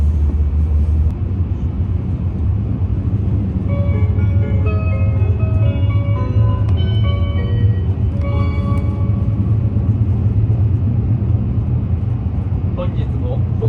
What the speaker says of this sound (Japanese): 今回乗車した白鷹号は JR 東日本所属の E7 系でした。